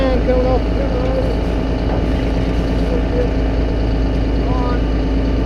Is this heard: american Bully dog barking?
no